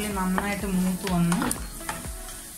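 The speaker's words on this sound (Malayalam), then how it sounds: "ഇപ്പം ആ ചുമന്നുള്ളി നന്നായിട്ട് മൂത്ത് വന്ന്" Small red shallots frying in hot oil with mustard seeds for a Kerala-style chicken curry tempering, a steady loud sizzle broken by repeated scraping stirs of a spoon in the pan.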